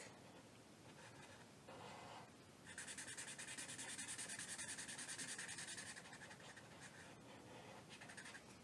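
A pencil or marker draws a block on paper in a quiet room, making soft continuous rubbing and scratching strokes that grow louder and steadier through the middle, with no talk.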